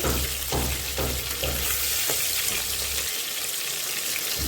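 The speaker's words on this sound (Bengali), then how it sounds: "মাছটা একটু ভালো করে ভাজা করে নিয়েছি" Pieces of rui fish sizzle loudly in hot oil, a continuous close crackling hiss with a few soft clicks and bumps as the fish is handled.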